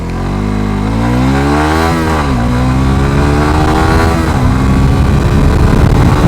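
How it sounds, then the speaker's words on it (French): A Suzuki GSX-R 125 ABS motorcycle makes a full-throttle start, its engine revving loudly and close, climbing in pitch through successive gear changes without any talk over it. "on va essayer de faire un démarrage plein gaz"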